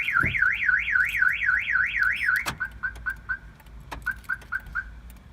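A Kia Forte Coupe alarm blares close by, first a rapid warbling siren, then a series of short repeated chirps in two bursts, with faint background noise.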